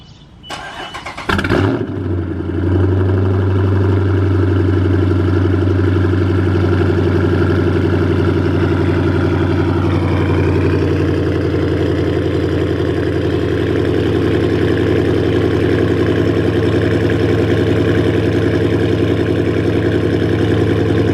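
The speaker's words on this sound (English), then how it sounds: "so this is gonna be the final cold start." A Dodge Charger R/T with a Corsa Xtreme exhaust cold-starts with a quick crank and catch, then settles into a loud, deep, steady idle with a rumbling low tone that shifts slightly partway through.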